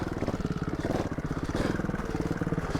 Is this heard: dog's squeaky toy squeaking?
no